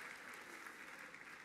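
Gala audience applauding, a dense even wash of clapping from many hands that holds steady throughout, heard at a fairly quiet level.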